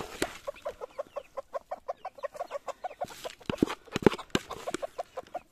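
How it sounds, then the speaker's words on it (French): Hens cluck in a steady, rhythmic series of short calls as they come out of the coop, fairly close, with a few louder sharp squawks standing out near the end. "j'ai les poules qui sortent au même moment"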